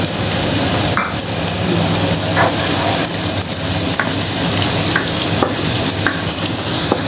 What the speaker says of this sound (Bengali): এবার একটু রসুন কুচি দিলাম